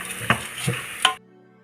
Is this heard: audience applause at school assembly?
no